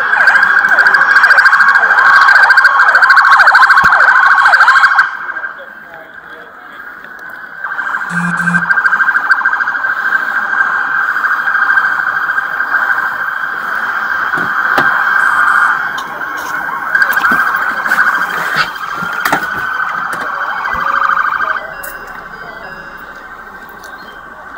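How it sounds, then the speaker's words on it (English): An ambulance siren wails steadily and loudly at a police scene, holding on continuously for about twenty-five seconds with a short dip partway through, while no one speaks. "We got enough room for our ambulance to get in."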